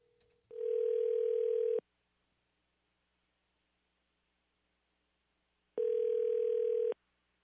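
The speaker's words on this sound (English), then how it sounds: "make a phone call," A telephone line tone sounds while a call is placed from a radio studio. Two long steady beeps come several seconds apart, clear and alone, with no talking.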